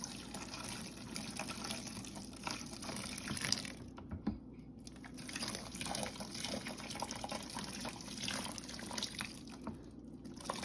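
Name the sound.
pouring hot water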